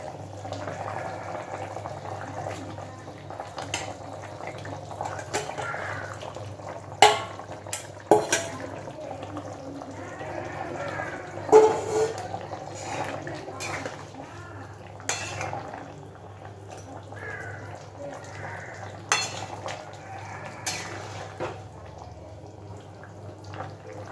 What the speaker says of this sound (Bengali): এবার ভেজে রাখা মাছগুলো এর মধ্যে দিয়ে দিচ্ছি।